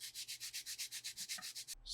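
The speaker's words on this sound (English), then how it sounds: "So we'll move on to the sanding pad." Sanding pad rubbed back and forth over an acrylic sample with white underbase, a steady series of about fifteen even, close scraping strokes in rapid rhythm, stopping abruptly at the end.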